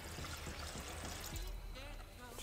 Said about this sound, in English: and I'm just gonna drain